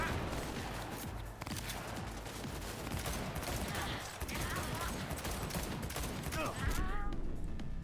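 Rapid bursts of gunfire from a firefight in the video game Cyberpunk 2077, dense and continuous throughout, with game voices and effects mixed underneath.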